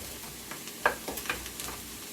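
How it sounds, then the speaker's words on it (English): Onions and peppers sauté in a pan with a soft, close sizzle, broken by a few light scrapes and clinks of stirring, and no talking. "I'm gonna saute these a bit more till they get a little more translucent"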